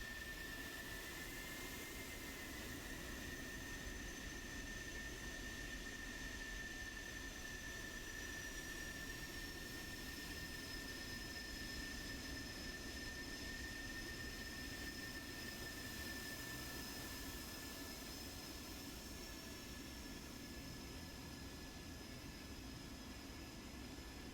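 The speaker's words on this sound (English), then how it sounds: "Catch some of the Grim Reapers guys as they taxi out to the runway" Grim Reapers military jets taxi out to the runway with a constant engine roar and a steady high whine, unbroken and without talk.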